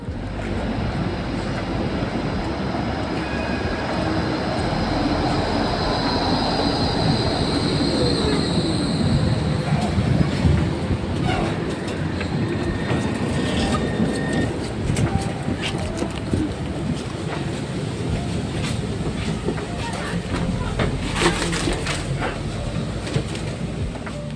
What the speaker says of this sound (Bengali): ট্রামে উঠে পড়েছি